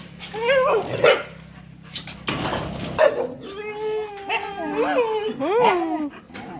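A dog barks, yips and whimpers at a gate, its high whining cries rising and falling between sharper barks, close by, with voices talking in the background.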